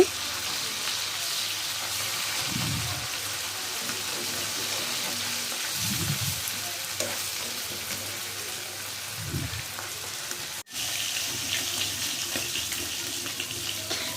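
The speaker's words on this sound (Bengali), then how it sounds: "এখানে আমার মাছটা ভাজা হয়ে গেছে বন্ধুরা" Hilsa fish frying in a pan gives a soft, steady sizzle and hiss throughout, with a few dull low thumps as the pieces shift in the oil.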